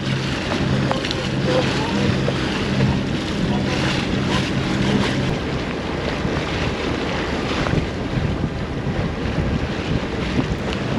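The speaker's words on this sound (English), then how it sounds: "Gusting out here." Gusty wind buffets a boat in a shipping lane, a loud, constant roaring rush with wave noise beneath, steady across the whole stretch with no clear speech.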